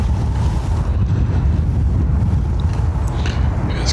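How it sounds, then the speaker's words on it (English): Strong gusting wind buffets a microphone outdoors at Dublin Airport during high-wind plane arrivals, a loud, rumbling, low roar that keeps up throughout. "the wind is kind of coming from that direction"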